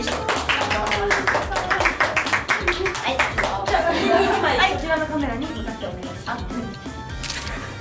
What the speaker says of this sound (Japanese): みんな拍手して